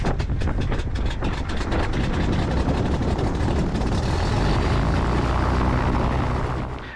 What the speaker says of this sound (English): So the engine's all warmed up now